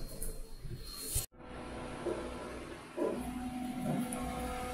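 A Summa S2 T75 vinyl cutter printing RC instrument gauges gives a steady mechanical whir with shifting motor tones, cut by a sharp brief dropout early on, then resuming with rising pitched sweeps.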